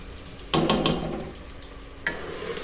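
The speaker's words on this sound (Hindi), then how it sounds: "इसके बीच में अब मैं अदरक लहसुन का पेस्ट डाल दूँगी।" Ginger garlic paste hits hot oil with light-browned onions and bursts into a loud sizzle, followed by stirring and a second spatter of frying, close up with no voices.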